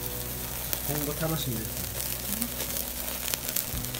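Steady hissing sizzle of a 2 kg scored sirloin steak cooking on a hot barbecue grill in Serbia, continuous throughout, with voices talking over it.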